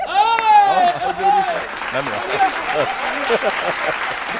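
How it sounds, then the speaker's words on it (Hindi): An audience applauds a humorous poem at a comic poets' gathering. Clapping runs steadily in the background while a voice talks prominently over it. "अंतिम लाइन में तालियां।"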